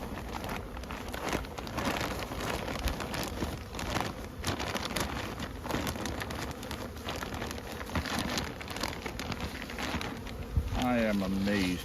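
Steady buzzing of many bees throughout, a dense insect hum, close and fairly loud, with a brief tonal sound near the end.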